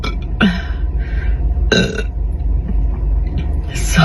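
A woman lets out a few gurgling burps after drinking Coke, two stronger belches and a softer one near the end, close and loud over a low rumbling background.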